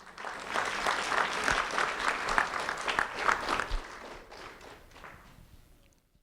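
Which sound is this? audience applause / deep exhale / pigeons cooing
audience applause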